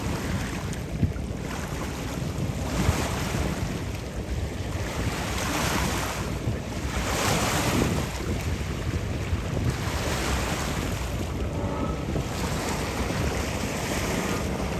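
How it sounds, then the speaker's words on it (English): Breezy wind blowing over an Ozark lake during a boat parade, a steady rushing roar buffeting the microphone with lapping water beneath, continuous and close. "A little breezy today, but it's welcome because the sun is shining very nicely."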